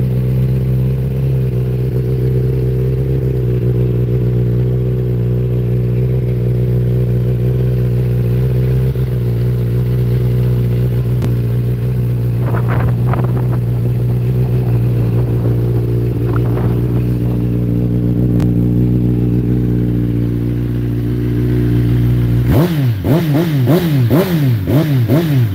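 A motorcycle fitted with a Graves aftermarket exhaust idles with a deep, steady rumble for a long stretch, then revs sharply several times near the end with a loud, throaty exhaust bark.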